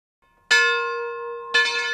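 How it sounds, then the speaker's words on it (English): A church bell at the Iglesia de San Antonio, rung by pulling its rope, peals loudly with two clear strokes about a second apart, each leaving a long ringing hum with bright overtones. "As Tony Simler pulls the bell rope in honor of her parents, the bell rings out to the community"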